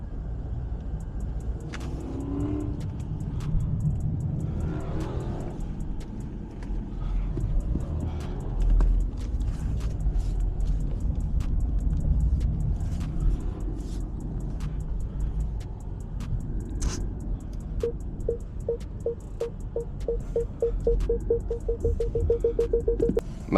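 Engines of old cars and a slammed truck rumble at a car show, a steady low idle with occasional revs and a rapid ticking idle near the end, close by amid crowd noise.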